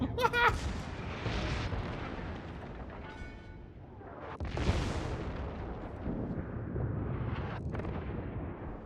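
Naval guns boom across a World of Warships battle, heavy low rumbling blasts rolling through a dense, noisy mix with a sharp report near the middle, while a voice talks over parts of it.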